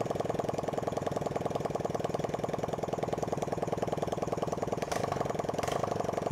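A Honda TMX 155 motorcycle engine, converted to CDI ignition, idles close by with a steady, even, rapid putter that holds a constant rhythm throughout.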